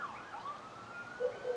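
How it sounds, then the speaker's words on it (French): A siren wails in the distance in Puerto Aventuras, Mexico, its pitch sliding up and down in a steady wavering sweep, faint but clear against quiet surroundings with no voices. "Une sirène."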